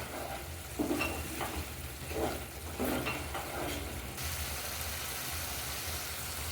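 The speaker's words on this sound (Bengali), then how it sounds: "আমি এখানে 1 চামচ হলুদ দিচ্ছি, আর এখন দিয়ে দিব পরিমাণ মতো লবণ, দিয়ে ভালো করে নাড়াচাড়া করে নেব।" Turmeric and salt are stirred into a sizzling masala for paneer biryani, giving a steady, fairly quiet frying hiss with a few soft scraping stirs near the start and no talk.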